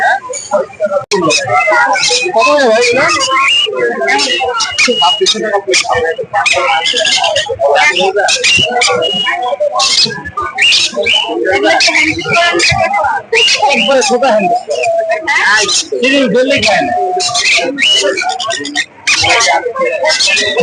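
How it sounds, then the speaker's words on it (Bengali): A tame pet cockatiel gives repeated chirpy whistles and calls throughout, mixed in with nearly constant talking nearby. "কাকারেল পাখিটি"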